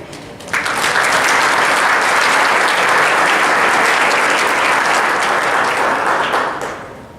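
A large audience breaks into loud, sustained applause that holds steady for several seconds before tapering off.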